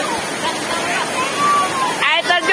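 Steady broadband rush of a waterfall at the Panangkura dam (Bendungan Batu) roars continuously near the microphone, with children's voices breaking in over the water noise toward the end.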